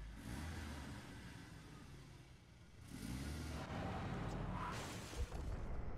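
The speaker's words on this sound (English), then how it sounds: "And he got hit by the car." A car drives past and strikes a character in the horror game Cry of Fear, its engine rising from a steady hum into a louder roar, with a brief thud near the end and no talk.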